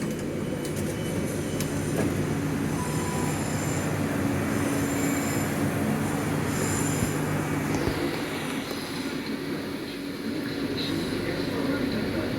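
A Southern passenger train running at speed on the Caterham to London Bridge line, a continuous loud rumble of wheels on track with thin metallic squeals threading through it.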